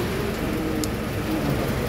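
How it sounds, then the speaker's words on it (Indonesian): Steady rain falls outdoors around a car being inspected, an even hiss of drops on surfaces at moderate loudness, with no voices over it during this short stretch. "Hujan pemirsa."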